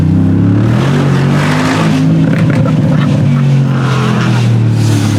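A 700+ horsepower Gintani-tuned Mercedes G-Wagon roars loudly and continuously at close range as the engine revs up and down, its exhaust rumbling and burbling.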